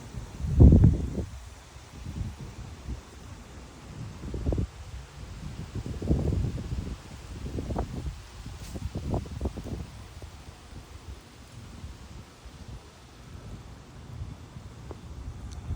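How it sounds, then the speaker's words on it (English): Gusts of about 30 mph sweep through live oak trees in Frisco, Texas, ahead of a severe thunderstorm, making a steady broadband rustle that swells in waves, with rumbling wind buffeting on the microphone. "These right here are 30 mile-an-hour wind gusts before a destructive storm hits us."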